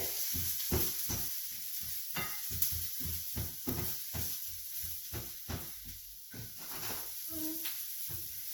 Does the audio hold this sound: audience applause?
no